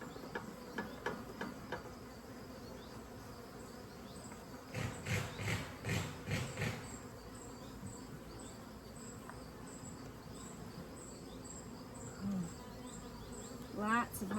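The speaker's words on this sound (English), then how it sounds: "Lots of hive noise." Honey bees buzzing inside a horizontal 24-frame Layens hive during an inspection: a faint, steady hum with scattered clicks and knocks as frames are handled, and no talking.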